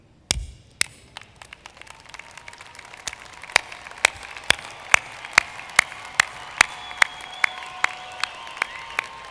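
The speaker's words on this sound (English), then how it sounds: "please stand and join me in applauding those who helped you" Graduation commencement audience applauding, starting as scattered claps that build into a steady stream of sharp, fairly close hand claps over a growing wash of crowd clapping.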